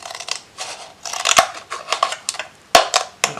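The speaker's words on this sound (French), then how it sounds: "Maintenant, je vais découper en essayant d'aller le plus droit possible." Scissors snipping through a plastic cup along marked lines, a series of sharp, close cuts in an uneven rhythm with two especially crisp snaps, no voices.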